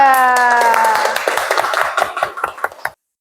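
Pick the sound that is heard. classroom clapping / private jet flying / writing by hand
classroom clapping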